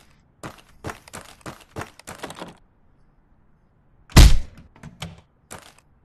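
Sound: banging on a door in the VR game Tactical Assault VR

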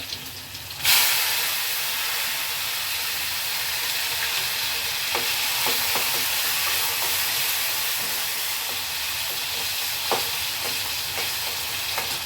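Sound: tomatoes, cumin and garlic frying in oil

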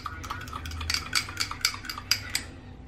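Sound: stirring melting cheese for nachos

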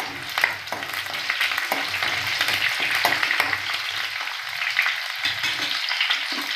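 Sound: mustard seeds, cumin, garlic and curry leaves frying in hot oil

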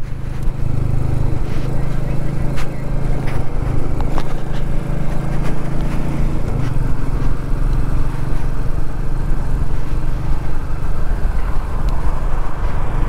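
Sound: Royal Enfield Meteor 350 motorcycle riding

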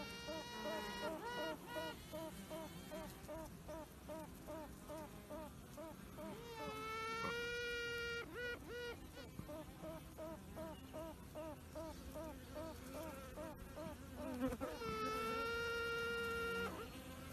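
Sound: queen honeybee piping

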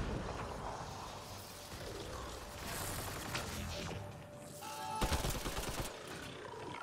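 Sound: gunfire in Mass Effect Andromeda video game

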